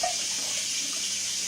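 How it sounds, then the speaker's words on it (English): Hot water poured out of a pot of boiled eggs into a sink, a steady close rushing splash that holds evenly throughout with no talking. "take your water and pour it out"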